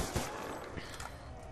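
A Hammer light machine gun fires in a video game in a quick burst of several rapid shots, fairly faint and heard alone with no talking.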